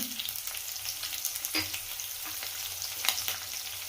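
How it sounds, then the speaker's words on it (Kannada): Raw banana palya frying in a pan gives a steady, close crackling sizzle with bursts of spatter and scraping stirs. "ಈ ರೀತಿ ಫ್ರೈ ಮಾಡ್ಕೊಳ್ತೀನಿ"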